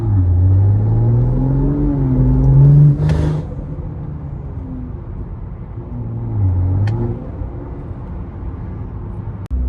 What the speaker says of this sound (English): the turbo noise is significantly louder with this exhaust setup